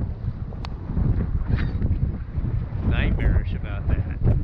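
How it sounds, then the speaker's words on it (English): Strong wind buffets the microphone on a sailboat out on the water, a continuous low rumbling roar with some faint higher tones over it. "you can't hear this because it's windier than hell"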